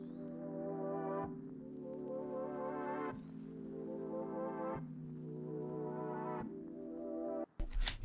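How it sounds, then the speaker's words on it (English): A rising R&B synth pad from the Loophole kit in Analog Lab swells repeatedly in long sustained chords, each with a gliding high tone climbing over it, before a short percussive hit at the end. "taking out a pad, which is from the Loophole kit."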